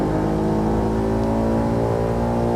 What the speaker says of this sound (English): The roar of that strong boxer engine as it tries to follow it around the first hairpin.